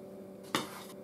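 Cleanser powder is stirred with water in a container, giving one sharp scraping clatter partway through over a steady low hum, with no talking.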